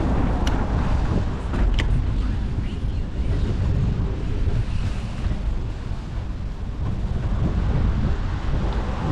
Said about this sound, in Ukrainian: А вітерець такий сьогодні бодрячий тяжко їхати.